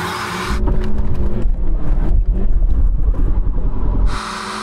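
BMW engine droning steadily during a race, heard loud and close from inside, with a sharp cut in and out of a brighter hiss at the start and end.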